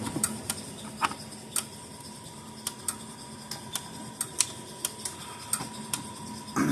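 Gallagher MPE2 electric fence energizer running with no load, giving sharp regular ticking clicks about once a second, a dozen or so evenly spaced over a faint steady hum.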